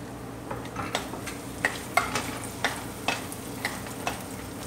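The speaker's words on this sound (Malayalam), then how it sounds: "ഇപ്പോൾ മുളക് പൊടി ഇട്ടൊന്ന് ചൂടായ ശേഷം കുറച്ച് വെളുത്തുള്ളി ഇടാം" Garlic and chili powder fry in hot oil in a pan, a soft sizzle under repeated light stirring scrapes that come at a roughly even rhythm.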